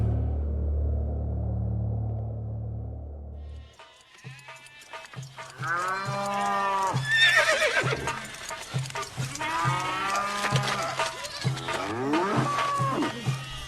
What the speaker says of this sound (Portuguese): Os egípcios levaram a José cavalos, ovelhas, cabras, bois e jumentos